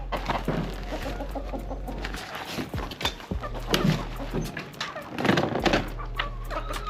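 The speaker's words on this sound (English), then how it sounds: "So you can see chicken guys." Egg-laying hens cluck and squawk in a busy, close flock at a Jamaican home in Mandeville, overlapping calls coming in rhythmic bursts over a low steady hum.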